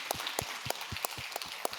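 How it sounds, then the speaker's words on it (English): A small audience claps in a round of applause, sparse individual hand claps landing at an uneven rhythm, fairly close and moderately loud, with no one talking. "So give that man a round of applause."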